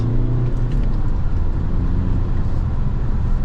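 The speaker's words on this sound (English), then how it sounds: "This car is ultra fast." A car drives fast along a road at dawn, a steady, loud rumble of engine and tyres heard from inside the car with no talk.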